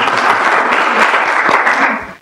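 Audience at a UCLA public health forum on transportation bursts into steady, loud applause, dense clapping filling the room for about two seconds before tapering off at the end.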